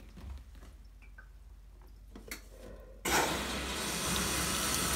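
A GE top-load washing machine, model GTW680BSJWS, begins filling with water for a deep rinse while washing a rug: quiet clicks and faint knocks, then a sudden loud steady rush of pouring water that continues to the end.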